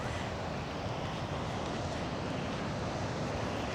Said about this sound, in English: but not today, it's so windy